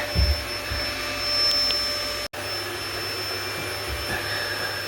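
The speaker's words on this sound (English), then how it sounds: "I'm just blindly vacuuming" A vacuum cleaner roars continuously and close by as it sucks up bees during removal of a beehive from a kitchen in Malmsbury, with a brief cut-out midway before resuming.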